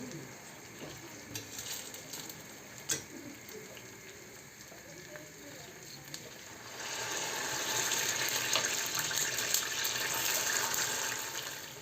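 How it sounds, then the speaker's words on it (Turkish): Water poured into a pot in a home kitchen while a Sunday breakfast is being made, a soft trickle growing into a louder steady gush partway through, close by with a faint voice early on. "Şöyle su koyarsın."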